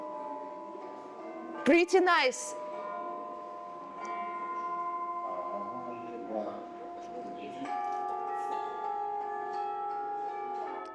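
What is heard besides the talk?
orchestral tubular bells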